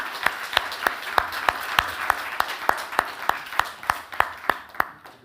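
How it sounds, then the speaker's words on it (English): Steady rhythmic clapping from an audience at a talk on economic growth limits, sharp regular claps about three per second, fairly loud and close, with no speech over it. "I think you deserve actually an applause for that"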